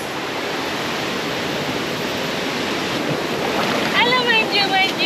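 Steady, loud rushing of river water at a forest stream crossing near the Sungai Chiling waterfall, a constant broadband roar with a voice briefly speaking over it near the end.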